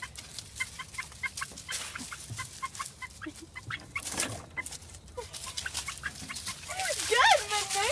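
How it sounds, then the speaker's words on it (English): A rooster or chicken loose outdoors near a house and bushes, clucking in short repeated bursts at moderate distance, mixed with children's voices and a sharper squawk near the end. "I just saw a rooster just come out of the bush or a house or something."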